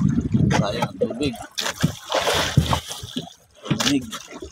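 Water overflowing and trickling from a container during a first trial batch of fermented fish, splashing and sloshing in uneven bursts close by, with people talking over it throughout.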